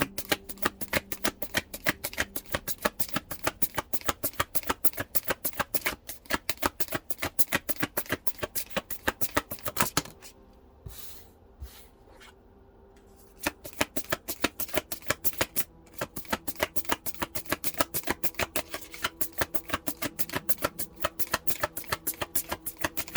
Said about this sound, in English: Holy Spirit, let me get some more cards, please.